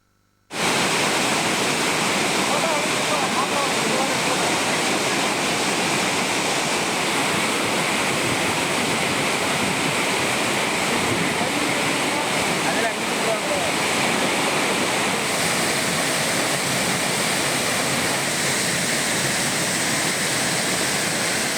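Flooded Courtallam waterfalls in Tamil Nadu roar after heavy rainfall, a loud, dense, unbroken rush of falling water that starts abruptly and holds steady throughout.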